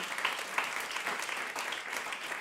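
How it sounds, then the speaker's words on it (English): Quiet, distant-sounding applause from the audience at an onstage conversation event, a soft continuous patter of clapping that stays low and even throughout the brief moment. "Round of applause for that, please."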